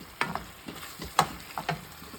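Beef crisp-frying in a hot pan, heard as a quiet sizzle broken by several sharp spatters and stirring scrapes that come in irregular bursts.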